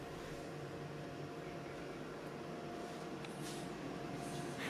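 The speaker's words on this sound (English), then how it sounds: "The room is equipped with air conditioning. It is noisy, of course." A hotel room air conditioner runs loudly and continuously, giving a steady broadband whoosh with a low hum underneath and no pauses.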